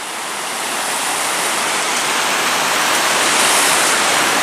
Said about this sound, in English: I'm going to put the camera down and walk to the waterfall.